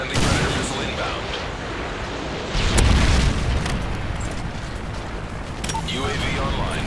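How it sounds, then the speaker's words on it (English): A Predator missile strike in the shooter Call of Duty: Modern Warfare 3 lands as a heavy boom, with a sharp blast near the three-second mark amid continuous rumbling battle noise, gunfire and voices. "Friendly Predator missile inbound."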